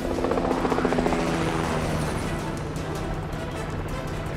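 A helicopter flies over dense jungle, its rotor thumping in a loud, steady roar that stays close throughout.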